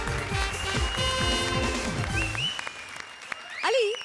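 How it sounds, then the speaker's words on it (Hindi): Studio audience applause on a Hindi TV comedy show, starting over a burst of music with rising tones and a sharp swoosh near the end, the clapping moderately loud throughout. "जोरदार तालियां कपिल और पार्वती के लिए।"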